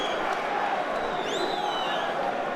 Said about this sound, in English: Crowd respond to that as well, they saw